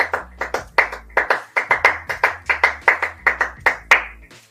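Rhythmic hand clapping, close and loud, with many quick claps in a repeating syncopated pattern over a low musical beat and no speech.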